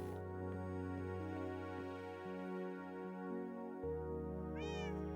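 A cat in the video game Minecraft makes a faint mew, heard once near the end over a low sustained musical backdrop.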